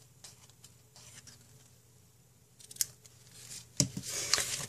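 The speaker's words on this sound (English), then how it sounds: "now I'm going to use my ribbon scissors to snip that" Ribbon scissors snipping paper while making a snowman treat: a few quiet cuts, then sharper, louder snips near the end, close up with no talking.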